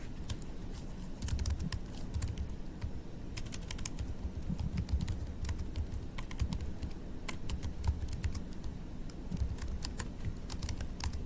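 Steady, rapid keystrokes on a computer keyboard as code is typed, a continuous close patter of clicks with no talking.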